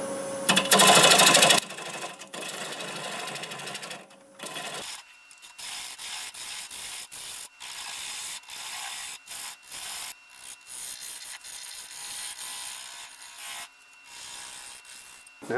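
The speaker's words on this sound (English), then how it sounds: "start out with a 1/2-inch bowl gouge and remove most of it. About 750 RPMs." A 1/2-inch bowl gouge cuts spalted sweet gum on a wood lathe at about 750 RPM, giving a loud burst of rough scraping followed by repeated shorter cuts interrupted by brief pauses, all close up with no talking.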